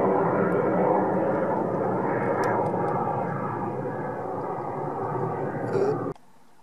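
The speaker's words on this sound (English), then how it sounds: "I've got the fake jets flying over top of me." Jet aircraft passing overhead near Kings Lynn: a loud, steady broadband roar that holds for about six seconds and then cuts off abruptly, with no voices.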